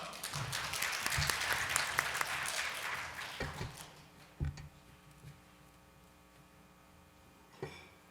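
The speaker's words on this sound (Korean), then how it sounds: "여러분의 힘찬 박수로 환영을 부탁드리겠습니다." An audience at a 2018 conference session applauds a speaker, a fairly faint clapping that fades after about four seconds into quiet room tone with a few isolated knocks.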